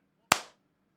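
A single sharp hand clap for audio sync, one crisp, close transient with a short ringing decay, surrounded by near silence in a quiet room.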